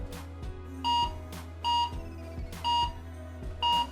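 Phone alert beeping, set off from an MPOW H2 fitness tracker to locate the phone: four evenly spaced two-tone electronic beeps repeat over a steady low hum, clear and close with no talking.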